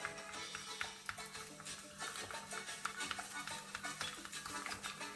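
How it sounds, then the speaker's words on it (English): Garlic powder being stirred into a roti mixture in a bowl, with a steady run of soft scraping and light tapping strokes over faint background hum, no talking. "I'm going to give that a good mix"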